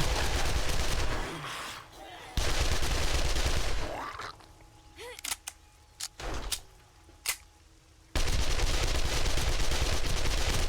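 Turret gunfire in the 7 Days to Die game, heard as loud stretches of dense rapid firing that break off into a quieter gap with a few sharp isolated shots before the heavy firing resumes.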